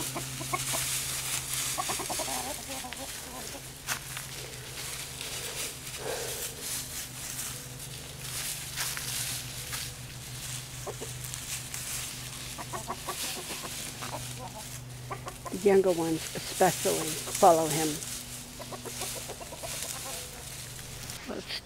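Rooster and a group of younger chickens clucking inside a coop, scattered close clucks with a louder burst of calls toward the end, while a person talks over them.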